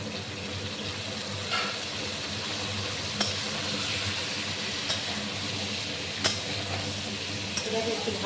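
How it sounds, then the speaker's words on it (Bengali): Soybean chunks and potatoes fry steadily in a pan with a constant low sizzle, while a utensil knocks and stirs now and then in sharp, brief clacks. "এটাকে একটু ভালো করে ভেজে নেব।"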